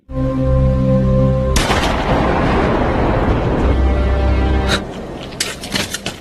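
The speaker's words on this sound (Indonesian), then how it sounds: "si Siti pun menembak orang Cina bala-balan tersebut atau ayahnya" A gunshot from the action film Transporter (2002), a sudden loud blast cutting off a low droning score, followed by a sustained roaring wash of noise and several sharp, scattered impacts near the end.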